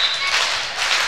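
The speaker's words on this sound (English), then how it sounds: "Student section getting loud." A loud student section at a varsity volleyball match between O'Neill and Crofton keeps up a broad, continuous wash of crowd cheering and noise that swells slightly, with indistinct clapping mixed in.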